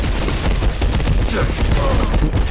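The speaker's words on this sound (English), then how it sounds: "he has somebody shooting with him" Rapid gunfire in the video game Abiotic Factor crackles as a dense, continuous burst of loud, close shots with no pauses.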